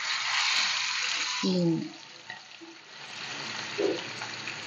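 Fish cooks in shallow oil in a pan, giving a steady bright sizzle. The sizzle drops away partway through as something is handled, then picks back up at a lower level.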